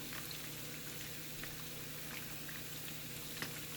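Cheese balls fry in hot oil with a steady, soft sizzle and bubbling hiss, faint and continuous with no voices.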